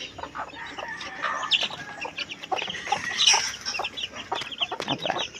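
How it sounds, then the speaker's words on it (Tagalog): Chickens cluck in a rural backyard, a steady stream of short, busy clucks and squawks from several birds at close range, with no talk over them. "Mga manok nakatoka na rin."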